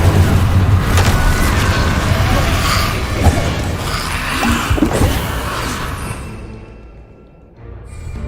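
A fire spell from a Harry Potter–style video game bursts loudly with a rumbling, crackling blast that sustains for several seconds before fading, with a voice speaking briefly over it.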